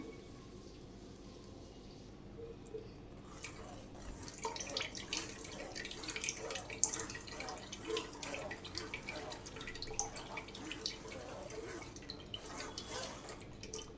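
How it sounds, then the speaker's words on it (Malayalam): Ground coconut mixture for tender coconut pudding strained through a sieve into a vessel, giving a steady trickle and drip of liquid with soft splashes throughout, fairly close and moderately loud. "അത് നമുക്ക് ഒരു അരിപ്പയ്ക്കകത്തോടെ അരിച്ച് ഒരു പാത്രത്തിലേക്ക് ഒഴിച്ചെടുക്കാം"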